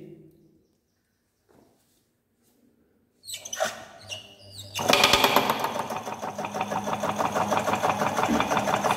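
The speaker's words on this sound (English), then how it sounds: "Now we will start the motor and see." Electric motor starting up to drive a cam and follower mechanism, with faint sounds first, then a rising whir that settles into a steady, rhythmic mechanical clatter of close, moderately loud pulses.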